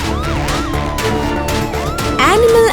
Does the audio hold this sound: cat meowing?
no